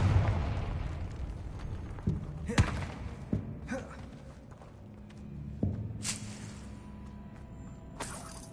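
Confringo spell blasts in the video game Hogwarts Legacy, several sharp fiery bursts and thuds scattered through the stretch over rumbling combat noise, with a voice talking underneath.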